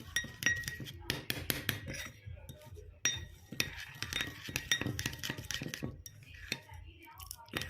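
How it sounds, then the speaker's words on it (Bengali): A spoon stirs a jaggery and milk mixture in a pan, clinking and scraping against the metal in a steady, close rhythm with occasional sharper taps. "গুড়টা গলে না যাওয়া অবধি এরকম নেড়ে যেতে হবে"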